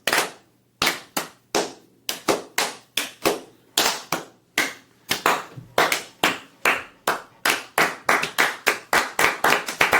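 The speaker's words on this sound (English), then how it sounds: "Can we get a slow clap on that moment of silence?" Hands clap in a slow, deliberate rhythm that gradually quickens, with sharp, close individual claps separated by short silences and no voices.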